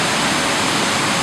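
Rough, swollen stream water rushes loudly and continuously after torrential post-storm rains in Jefferson Township, New Jersey, a dense steady roar with no voices.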